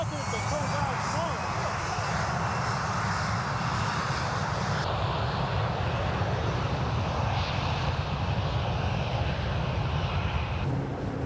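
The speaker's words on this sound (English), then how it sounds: "The plane." A fixed-wing airplane drones overhead during an outdoor electric unicycle ride, a steady engine roar sustained across the whole stretch over wind noise, with a voice briefly speaking.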